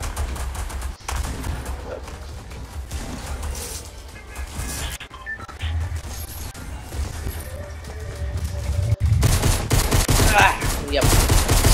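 Rapid bursts of pistol gunfire from a Fortnite solo match ring out across the clip, repeated shots clustering over busy game noise, with a louder flurry near the end.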